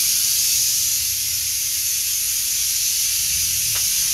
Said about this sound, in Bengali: এই যে আমার মাংস হইতেছে